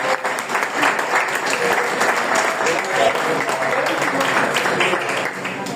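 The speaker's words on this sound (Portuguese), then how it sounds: "As palmas para você." A church congregation applauds in steady, dense clapping that fills the whole stretch, with some voices mixed in beneath the applause.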